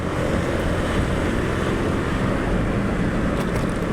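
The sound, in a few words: loud motorcycle engine accelerating on a bridge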